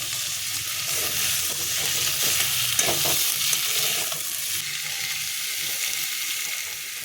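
Spices for moong dal with fish head stir-fried in a pan, a steady loud sizzle with occasional scraping stirs, continuous and close up with no talk.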